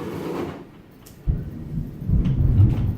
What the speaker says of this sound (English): Wow, that's some thunder.